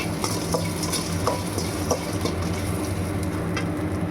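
Onions and cumin fry in a pan for a mutton curry, a steady close sizzle broken by the scrape and clink of a utensil stirring.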